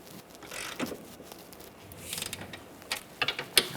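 A torque wrench ratchets on a rear lateral link bolt of a 2007-2017 Jeep Patriot, set to 26 foot-pounds, with soft scattered ratchet clicks building to a few sharp, close clicks near the end.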